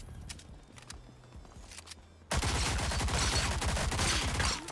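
Rapid secondary-weapon gunfire in a first-person shooter game erupts suddenly halfway through, a dense loud continuous volley following quieter background noise and scattered clicks.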